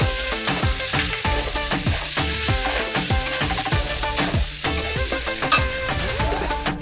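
Spices such as salt, turmeric and chili powder frying in oil in a pan for potato curry, a steady close sizzle with rhythmic scraping stirs repeating about twice a second, no talking.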